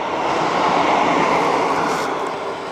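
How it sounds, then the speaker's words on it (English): A train passes close by a road during a Honda NC750S motorcycle ride in the UK, a loud, steady broadband roar that fills the clip without pause. "there's a train coming"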